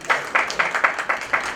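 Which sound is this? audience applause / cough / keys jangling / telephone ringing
audience applause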